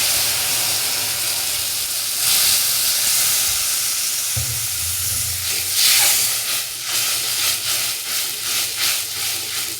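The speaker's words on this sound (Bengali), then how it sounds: "এবারে দিয়ে দেবো জল, হালকা করে জল দেবো।" Water poured into a hot pan after frying until reddish, a loud rushing hiss of steam that surges midway, then settles into pulsing bursts of bubbling and sputtering.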